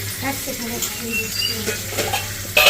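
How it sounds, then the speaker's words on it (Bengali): Turmeric prawns sizzle and fry in a pan while a spatula stirs and scrapes steadily up close, with a sharper clatter near the end. "এই হলো হলুদ চিংড়ি"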